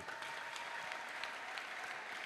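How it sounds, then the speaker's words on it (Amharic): A church congregation applauds in steady, dense clapping that holds evenly throughout, fairly distant and moderate in level, with no clear speech over it. "ለጌታ ከፍ ያለ እልልታ ጭብጨባ ስጡ"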